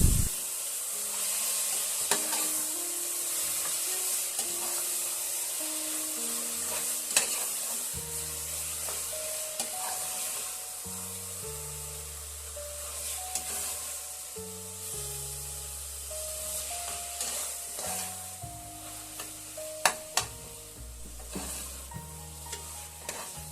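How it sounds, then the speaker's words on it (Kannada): Marinated chicken fries in a pan for chicken biryani with tomato, giving a continuous sizzle broken by frequent stirring scrapes and clinks, over faint background music and no talk. "ಈಗ ಮ್ಯಾರಿನೇಟ್ ಮಾಡಿದ ಚಿಕನ್ನನ್ನು ಹಾಕಿಕೊಳ್ಳಿ. 5 ನಿಮಿಷ ಚೆನ್ನಾಗಿ ಫ್ರೈ ಮಾಡಿ."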